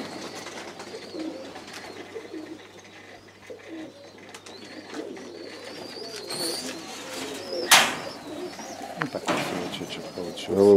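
Domestic pigeons coo repeatedly at a pigeon loft in Maksimilyanovka. Other bird calls and chirps mix in, and faint human voices murmur in the background.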